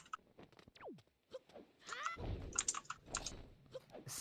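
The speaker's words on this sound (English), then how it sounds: "It's a very clicky keyboard, and I had my microphone literally inside of it" Clicky mechanical computer keyboard typed on with a microphone right inside it, giving quiet scattered clacks and short bursts of keystrokes, then a denser run of louder clicking.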